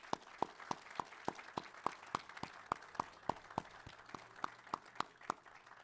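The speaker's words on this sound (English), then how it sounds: "please give a round of applause for the recipient of the Commissioner's Award for Environmental Stewardship to Ms. Valerie Ramsey" Audience applause for an environmental stewardship award recipient at a state commissioner's awards ceremony, with a steady, fairly faint stream of distinct claps heard from a distance.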